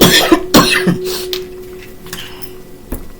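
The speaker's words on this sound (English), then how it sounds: "You can make me cough" A few sharp coughs near the start, followed by quieter rustling and faint background noise.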